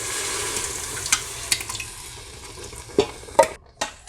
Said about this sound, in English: if you saute the tomato paste, if you kind of cook it a little bit, it takes on a darker color